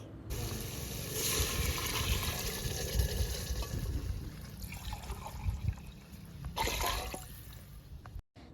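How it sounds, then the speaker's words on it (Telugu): Water runs and splashes steadily into a pot for several seconds, close up, with a second brief gush near the end and no speech. "దానికి తగ్గట్టు వాటర్ వేసేసుకోవాలి"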